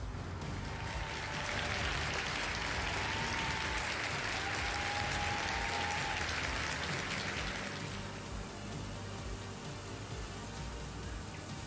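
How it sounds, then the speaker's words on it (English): A round of applause in a livestream setting, a steady wash of clapping that sounds almost like rain, sustained for about eight seconds before thinning out. "Big old round of applause to David."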